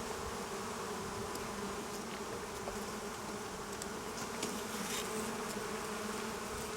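Honeybees buzzing steadily over the brood frame of an open hive, a dense continuous drone close at hand that holds at an even level throughout, with no voices.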